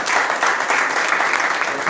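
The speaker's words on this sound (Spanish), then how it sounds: "Alguien aplaude al Rey de Gloria." Congregation at a Saturday faith-and-power church gathering claps steadily, a dense wash of applause filling the space for about two seconds with no break.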